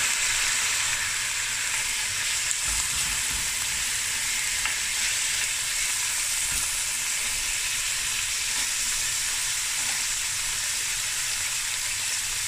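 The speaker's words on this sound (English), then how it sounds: "Okay, so the onions is turning brown, golden brown." Onions frying in a pot as the base for a tomato, butter bean and marrow bone stew, giving a steady, close sizzle with bright hiss throughout and occasional soft stirring knocks, no talking.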